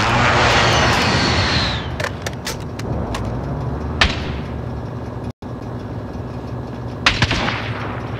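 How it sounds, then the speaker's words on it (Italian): An allied precision airstrike in Call of Duty Warzone: a loud jet roar sweeps overhead, then sharp explosive impacts land in a couple of clusters against steady battle ambience. "Bombardamento di precisione alleato."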